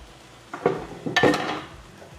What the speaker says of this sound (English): so I can't see all these dirty dishes, so I wash as soon as I'm done with them